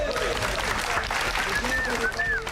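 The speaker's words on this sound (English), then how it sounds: "Give yourself a round of applause." Applause from a group gathered for a Filipino martial arts session on the set of Doctor Strange, a steady dense patter running the whole time with voices talking over it.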